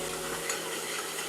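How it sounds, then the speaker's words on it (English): Onions hitting a hot pan give a dense, steady sizzle with stirring scrapes, close and continuous for a short moment. "after that, we're going to add the onions."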